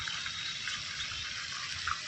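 Water sprays from fountains in Sardar Baug (Peel Garden), a public garden in Bhavnagar, as a steady, faint outdoor hiss over a short stretch.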